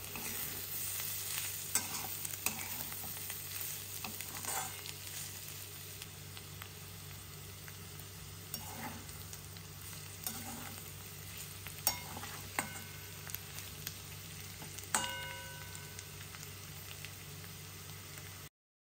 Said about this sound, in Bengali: অনেকটা হয়ে গেছে, আর একটু নাড়াচাড়া করে নামিয়ে নেব